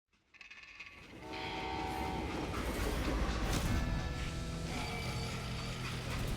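Train in the Western video game Call of Juarez: Gunslinger, a steady loud rumble of rolling wagons with horn-like tonal blasts layered on top, building quickly and sustained throughout.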